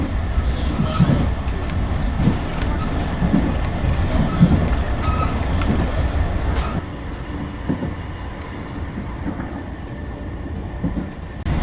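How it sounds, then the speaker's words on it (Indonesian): A Sribilah passenger train passes straight through Lautador station without stopping, a continuous rumble and rattle of wheels close by that eases off partway through, with no voices. "baru saja kereta api Srivila melintas langsung di stasiun Lautador"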